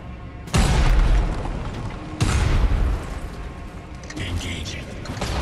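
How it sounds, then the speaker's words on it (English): Pipe bombs explode in the Homefront: The Revolution shooter game, giving two or three loud booming blasts a couple of seconds apart, each followed by rumbling debris, with a voice speaking over them. "blow up Wolverines using pipe bombs."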